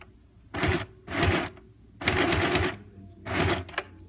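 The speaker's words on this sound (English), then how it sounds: "when you get to the end, you're going to do your reverse stitch again." A sewing machine reverse-stitches fabric in four short bursts of rapid mechanical whirring, each lasting under a second with quiet pauses between, close and moderately loud.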